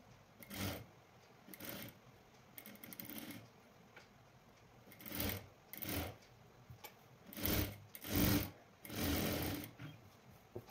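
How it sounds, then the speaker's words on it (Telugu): A sewing machine stitching the neck of a lined blouse runs in short, quiet bursts of rapid whirring, about seven or eight separate runs with pauses between them. "నెక్ ఇలా సమానంగా అనుకుంటూ స్టిచ్చింగ్ చేసుకోవాలి."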